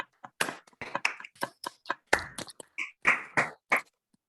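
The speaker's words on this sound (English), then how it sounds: "give you a round of applause for a great presentation" Online meeting participants applaud after a presentation: scattered, uneven hand claps in short bursts, fairly close, with no talking.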